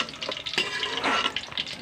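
Fish balls frying in hot oil for a sweet and sour dish, a steady close crackling sizzle with stirring bursts throughout, no voices.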